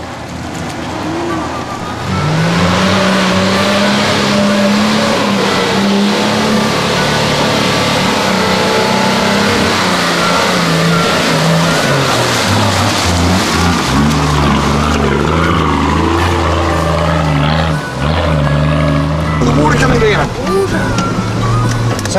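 Four-wheel-drive cars on 35-inch tyres rev and strain up a rutted bush track, engines loud and close, surging and falling repeatedly, while people talk over them throughout.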